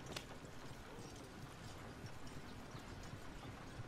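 Horse hooves clip-clopping at a steady walking pace in Red Dead Redemption 2, a continuous faint rhythmic clatter under game ambience, with no talking.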